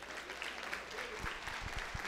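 Applause at a celebration marking 37 years of the Partido dos Trabalhadores, a short burst of clapping from a gathered crowd, fairly faint and diffuse, with a few sharper nearby claps toward the end.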